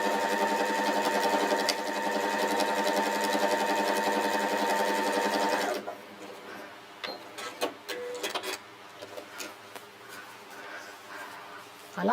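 A sewing machine whirs steadily as it stitches for several seconds, then stops, leaving quieter rustling and light handling noises.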